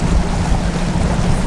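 A bass boat idles on Lake Pickwick, on the Tennessee River: a steady low engine rumble mixed with water slap and wind buffeting, close and continuous, no talking.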